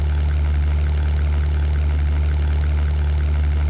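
Twin aircraft engines in the flight game European Air War drone at a steady, loud idle-like hum with strong low rumble, continuous and unchanging throughout, with no talk.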